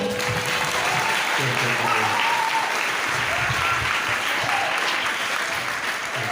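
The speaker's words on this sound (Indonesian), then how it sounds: "Tepuk tangan dulu dong." Loud, dense audience applause at an Islamic seminar closing, thanking the speaker after his talk; continuous clapping fills the room evenly for several seconds, with faint voices underneath.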